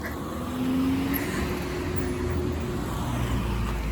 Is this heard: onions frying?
no